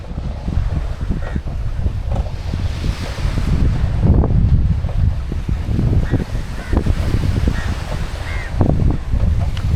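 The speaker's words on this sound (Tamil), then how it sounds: "கடலோரம் வாங்கிய காத்து" Sea breeze on an island coast near small fishing boats buffets the microphone in heavy, gusty rumbles over a steady wash of surf, loud throughout.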